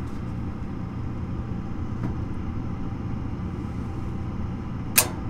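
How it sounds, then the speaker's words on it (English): A single sharp click as a gas furnace's gas valve opens, standing alone near the end over a steady low hum from the appliance. "that was the gas valve opening"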